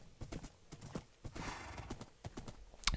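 Horse hooves clip-clop in the video game Minecraft, a quick irregular run of hollow knocks close by, with a brief neigh near the end and no talk.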